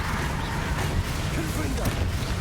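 Incendio fire spell cast in Hogwarts Legacy, a dense crackling, booming burst of magical flame layered over the constant rumble of the game's soundscape.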